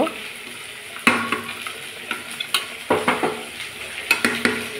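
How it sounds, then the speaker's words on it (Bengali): Meat frying in a pressure cooker is stirred, with a steady sizzle under repeated sharp scrapes and clatters of the utensil against the metal pot, close and fairly loud. "এবার কুকারে যে মাংসটা বসিয়েছিলাম এটা একটু নেড়ে নিচ্ছি, ভালো করে কষিয়ে নেব।"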